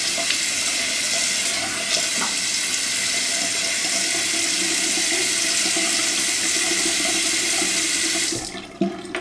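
Water running steadily from a bathroom tap into a sink while someone washes their face, a loud, continuous close splash that cuts off near the end.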